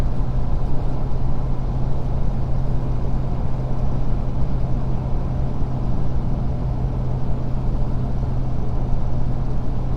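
Ford Powerstroke diesel pickup towing 14,500 lbs up a steep hill in fifth gear, a steady loud low engine drone and road rumble heard from inside the cab, unbroken throughout.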